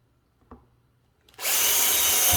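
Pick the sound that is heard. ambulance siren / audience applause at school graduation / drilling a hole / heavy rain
drilling a hole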